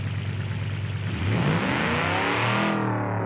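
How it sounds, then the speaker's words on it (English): Supercharged car engine in BeamNG.drive revving up with a rising, whining supercharger pitch, loud and close, holding at high revs and then easing off near the end. "So let's fire it up and hear the superchargers"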